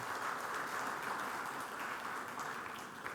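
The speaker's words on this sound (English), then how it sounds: "So a big round of applause for all of you." An audience at a corporate employee event in Pune gives a sustained round of applause, a continuous wash of clapping at moderate level, fading slightly toward the end with no speech.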